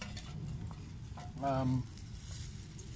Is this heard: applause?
no